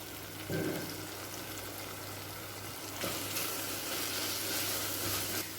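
Ground masala paste for an egg gravy sautéing in a pan with cooked-down tomato, a steady moderate sizzle that swells after a stir, no voices.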